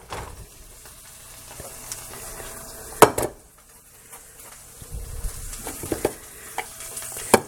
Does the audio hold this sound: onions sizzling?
yes